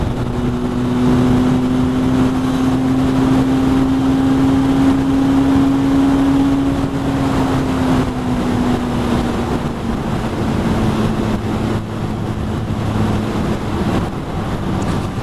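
Wind blast roars steadily while riding a Benelli 502C naked motorcycle, a loud, continuous broadband rush over the low engine drone, with no talking.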